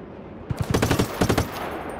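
Gunfire from a helicopter in Just Cause 3, a rapid burst of automatic shots in two short volleys, loud and punchy, with a brief gap between them and no talk over it.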